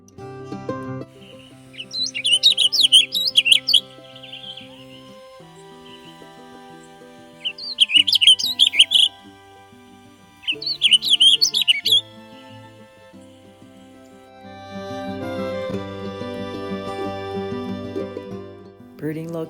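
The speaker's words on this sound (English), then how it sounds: "The warbling vireos have the most beautiful song." A warbling vireo sings along a Colorado river trail, its rapid, tumbling warbles arriving in three short bursts a few seconds apart, fairly close, with quieter tonal sounds and faint background noise between phrases.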